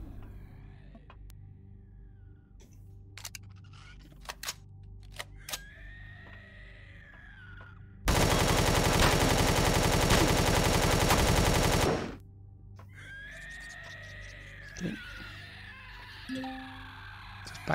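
A turret in the Empyrion Galactic Survival video game lets loose a loud, dense burst of rapid automatic fire lasting about four seconds, amid sparse game clicks and shots before and after, with no talking.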